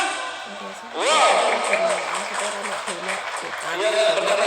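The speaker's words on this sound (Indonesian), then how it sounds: "mana tepuk tangannya?" An audience claps and cheers at a silat fight event, a broad wash of applause swelling under an announcer's voice that talks throughout.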